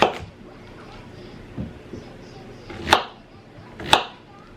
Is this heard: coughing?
no